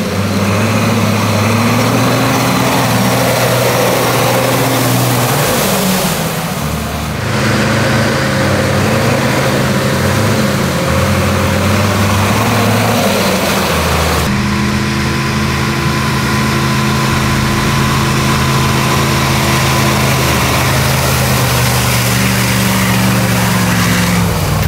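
A Ural 375D truck's 6-litre, 180-horsepower V8 engine rumbles steadily at idle with a low, throaty drone, shifting slightly in pitch a couple of times, close and loud.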